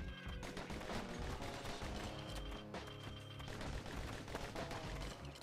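Rapid bursts of gunfire from pincushion enemies in the action video game Bastion, dense crackling shots repeating throughout over game sound effects and music.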